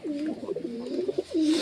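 Pet pigeons coo up close in a soft, throaty series of rolling calls, several warbling phrases following one another with brief gaps, clear and alone.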